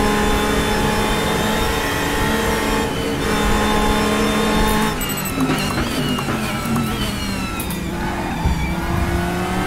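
A Ferrari race car engine in the RaceRoom racing game drones at high revs and rises in pitch through the gears, loud and continuous, with another car audible in the mix.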